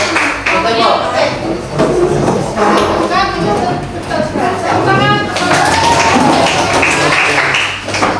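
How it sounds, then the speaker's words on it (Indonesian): A room of teachers at a training session claps for a group: brief, dense applause mixed with chatter and voices that continue over it. "Tepuk tangan untuk kelompok 4."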